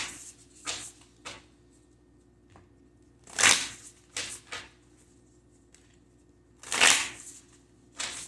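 Self-care oracle cards are shuffled in short bursts of riffling and flicking at irregular intervals, close and crisp with quiet gaps between them.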